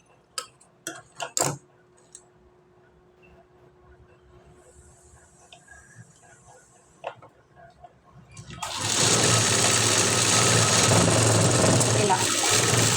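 A sewing machine runs in steady, loud bursts while stitching dots through fabric with a lining layer. Scattered clicks and taps of fabric and presser-foot handling come first, then the machine runs continuously to the end.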